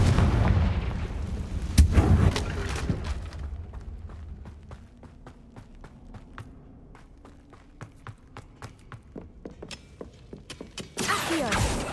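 Confringo fire-blast spells in the Hogwarts Legacy video game burst with booming impacts, then a string of sharp, rapid cracks and thuds, with a final loud burst near the end.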